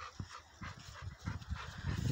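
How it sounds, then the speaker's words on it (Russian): A dog on a walk among fir trees makes soft whimpering whines and quick panting breaths, close by and fairly quiet, with brief bursts repeating across the moment. "Собака, собака-барабака."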